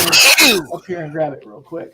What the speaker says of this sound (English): I sneezed my full head off.